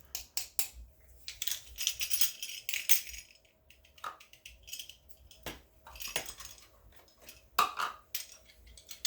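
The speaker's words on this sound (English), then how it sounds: "So I'll just scrape it off here with a knife." A knife scrapes habanero pepper off a surface in a kitchen, giving a close, irregular run of quick metallic scrapes, taps and clinks, loud and busy throughout with short pauses between bursts.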